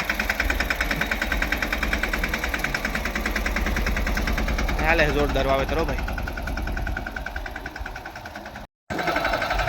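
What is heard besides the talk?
new tractor engine running while sowing in a field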